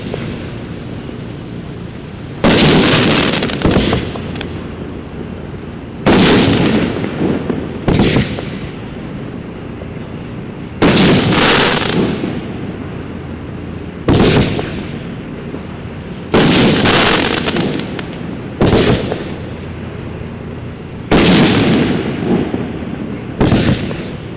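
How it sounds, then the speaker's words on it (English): A Half and Half Finale Fest nine-shot finale firework rack fires its bursts one after another, each a loud, sharp crackling blast with split effects, spaced a few seconds apart and heard close and alone. "a festive nine-shot finale rack that has giant, timed, colorful bursts with split effects"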